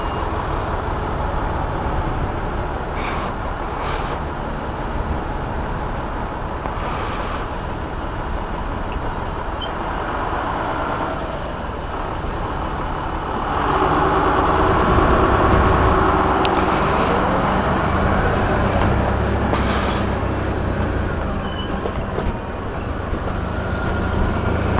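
A motorcycle riding on a road in cool weather, a steady loud engine and wind drone that swells partway through, heard alone.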